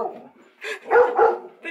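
Dogs barking indoors at home, a few short woofs and yips in quick succession, close and fairly loud, with no one talking over them.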